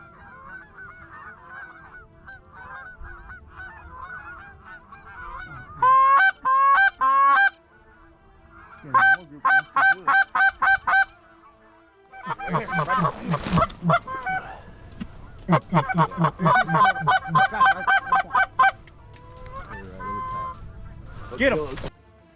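Canada geese honk in loud, rapid bursts of repeated calls during a Missouri goose-banding chase, with one very large goose among them, the honking series alternating with quieter stretches as people talk in between.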